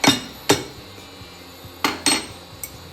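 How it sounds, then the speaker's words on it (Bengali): A nutmeg is broken by hand in a kitchen, giving a few sharp, hard knocks and cracks at irregular intervals, close and loud against a quiet background, for a spice mix. "জায়ফলটাকে আমি একটু ভেঙে দেবো যাতে এটা চট করে"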